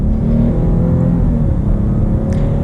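A 2020 Chevy Blazer RS with a 3.6-liter V6 accelerating, its engine note a loud, close, continuous rumbling drone that holds steady for a few seconds with no talking.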